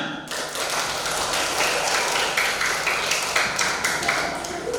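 Schoolchildren in an elementary school classroom clap their hands together in a dense, steady burst of applause that carries loudly through the whole moment.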